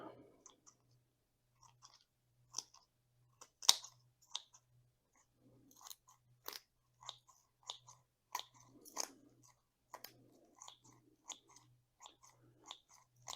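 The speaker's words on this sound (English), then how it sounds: "I don't know if you can hear some of the crunching going on" Scattered sharp crunches and snips of scissors cutting through roots while repotting and pruning a trunk-fusion dwarf schefflera bonsai, close and quiet, come in irregular bursts against a soft steady hum.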